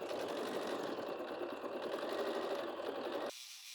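A Bernina 7 series sewing machine fitted with the Smart Drive module runs in one smooth, even, continuous hum, close and without talk, then cuts off abruptly near the end, leaving faint room tone.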